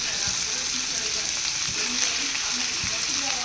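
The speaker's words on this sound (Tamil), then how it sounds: "நம்ம இப்போ சிக்கனை உடனே ஸ்ட்ரைட்டாக ஆட் பண்ண போகிறோம்" Chicken sizzles steadily in a hot pan as it frying, a continuous bright crackle with a few soft stirring knocks underneath, close and fairly loud with no talking.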